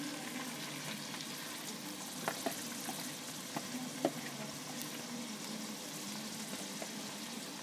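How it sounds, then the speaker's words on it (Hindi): Onions frying in ghee in a pan for dhaba-style dahi bhindi, a steady close sizzle with a few sharp crackles and spits, no talking. "सबसे पहले हमने प्याज और भिंडी को फ्राई करना है"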